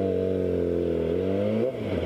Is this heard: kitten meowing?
no